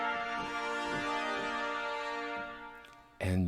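A sustained, bright brass note from a sampled brass library rings out with a long, spacious cathedral convolution reverb tail, as if played in a vast stone hall, ending with a brief thump.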